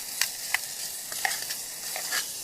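Onions sizzling in a camp pan for an aloo gobi, stirred in regular scraping strokes over a constant frying hiss, close by and without speech.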